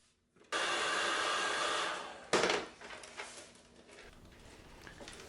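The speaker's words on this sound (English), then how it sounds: "when I get to the corner I heat it with a heat gun" A heat gun blows steadily for about two seconds while guitar binding strips are warmed, then a sharp knock cuts in and a quieter fan whir continues beneath light handling noises.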